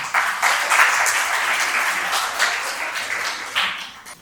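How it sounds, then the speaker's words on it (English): An audience applauds a speaker at a lecture on the Philippine indigenous language Cuyonon, with steady, dense clapping that runs the whole time and tapers off slightly at the end. "Let us give Dr. Lee a round of applause."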